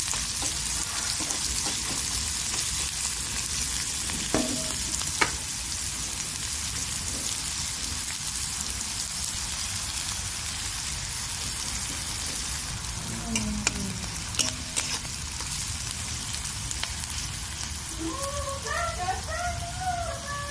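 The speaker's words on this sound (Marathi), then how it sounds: "कांदा पण छान असा परतून घेऊ आपण।" Onions sautéing in a pan for ridge gourd chutney, a continuous dense sizzle with a few stirring clinks and scrapes, and a brief voice toward the end.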